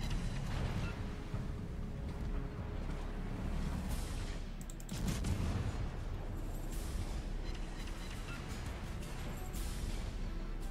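Naval gunfire in a warship video game booms as a few heavy, muffled blasts over a low, rumbling background din.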